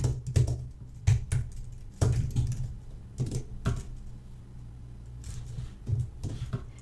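Keys clack in short clustered bursts on a computer keyboard, close and fairly quiet, with brief pauses between the groups of keystrokes.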